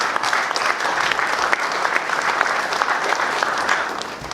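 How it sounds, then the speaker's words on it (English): An audience at a resort event in Dominica, the Cabrits Resort & Spa, applauds: thick, continuous clapping at a steady, loud level with scattered sharper claps standing out, heard alone without speech. "You all deserve the biggest round of applause."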